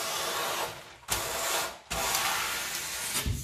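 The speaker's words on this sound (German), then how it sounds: "Das ganze Stück ist mir zu breit, deshalb schneide ich vom hinteren Teil ein bisschen was ab." Baking paper being cut with scissors to line a soap mould: a fairly loud, broad, rasping cut that runs continuously, broken by two short pauses.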